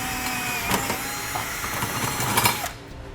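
A high whining power drill runs in short bursts of a few seconds, boring a pilot hole through a metal side-step bracket into a vehicle's rocker panel, close up, with a steady mechanical hum underneath.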